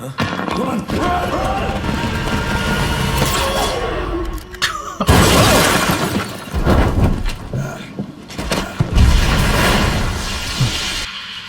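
A grenade goes off in a street scene from a Daredevil: Born Again episode, a loud crashing blast with shattering debris that follows frantic shouting, with voices and scuffling continuing around it.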